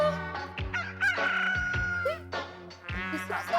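A rooster crows inside a house, loud and close, with several drawn-out crowing calls and clucks in quick succession.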